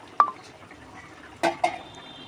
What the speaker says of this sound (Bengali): এইবার আমি এঁচোড়ের কোপ্তাগুলো কিন্তু আমি দিয়ে দিচ্ছি